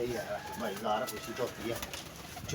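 Pigeons coo and call close by in a steady run of soft throaty notes, with a voice present in the background.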